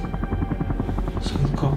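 A helicopter's steady rhythmic rotor thumping fills the scene, loud and close, while a voice speaks over it.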